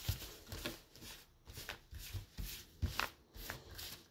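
Tarot cards being shuffled by hand, a close, quiet series of rhythmic riffling and tapping bursts repeating about every half second, with no talking.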